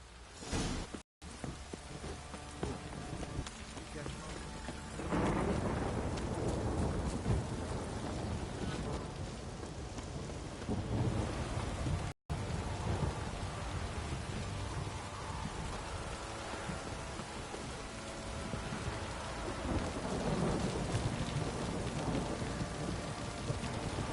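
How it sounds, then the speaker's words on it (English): Heavy rain pours steadily in The Witcher 3: Wild Hunt, with rumbling thunder rolling underneath a constant loud hiss of downpour that carries on for the whole stretch. "This downpour's a bastard, it is."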